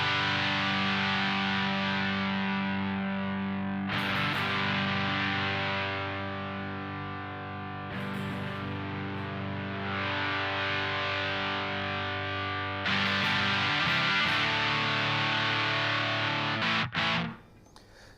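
Distorted electric guitar chords through a ProCo Rat distortion pedal with its filter reducing treble ring out steadily with a muffled, darker top end, sustained notes changing every few seconds before cutting off abruptly.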